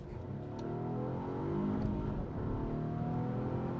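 A 2022 Volvo S90 T8 Recharge plug-in hybrid with 455 hp accelerates in power mode, its engine note building steadily and loud over a low rumble of road noise, with no voices present.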